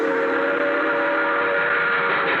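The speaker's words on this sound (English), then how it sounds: "An express train roaring by." An express train roars past in a radio drama, its whistle sounding as a sustained, loud, steady tone over the rushing rumble of the cars.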